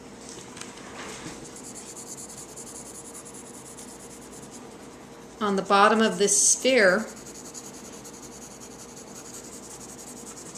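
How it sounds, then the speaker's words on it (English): A pencil shades a sphere on paper, its soft continuous scratchy rubbing strokes running steadily and close throughout, while a person speaks briefly over the middle. "So I'm just putting in some pencil marks"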